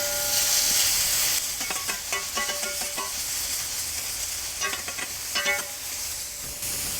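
Pork tenderloin sizzles on a plancha set on a kettle grill, a steady loud hiss with bursts of crisp scraping and clattering as the meat is moved and mixed, close and without talk.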